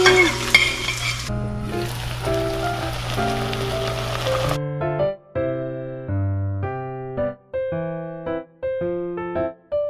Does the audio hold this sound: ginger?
yes